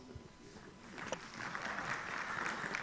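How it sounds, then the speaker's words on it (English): An audience at a multi-purpose hall session breaks into applause that starts faint and swells into steady, fairly distant clapping lasting a few seconds. "Can we give an applause?"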